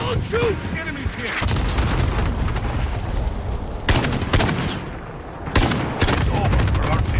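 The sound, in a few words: SKS rifle gunfire in video game Call of Duty Modern Warfare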